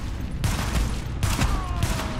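Several heavy bursts of gunfire in the shooter game The Division, clustered into about three loud rattling volleys that fill the clip.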